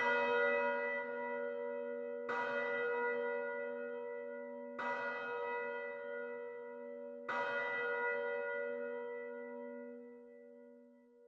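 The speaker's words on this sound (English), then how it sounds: "4 deep bell tolls resonate from overhead, signaling you that the time is ticking closer to Luvia's much awaited press conference." Four deep, resonant bell tolls ring out from overhead, evenly spaced, each strike swelling and then slowly decaying into a long humming tail before the next.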